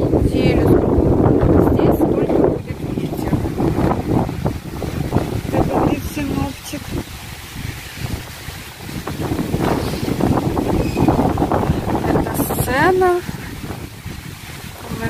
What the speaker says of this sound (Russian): Все было бы хорошо, если бы не этот ветер.